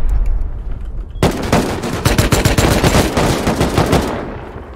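Rapid automatic gunfire from the survival game Rust during a raid defense, a dense close burst starting abruptly after a second of quiet and hammering continuously before easing off.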